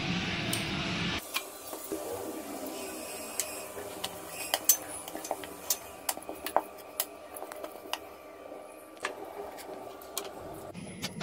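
Puri dough rolled out one by one with a rolling pin after oiling, giving soft repeated knocks and light wooden clicks at an irregular rhythm, close and quiet, with no talk.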